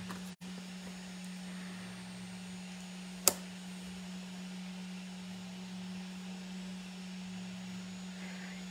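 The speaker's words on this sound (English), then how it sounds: "You can hear the 3D printer in the background." A 3D printer runs steadily in the background, a faint continuous low motor hum with a single sharp click partway through, no talking.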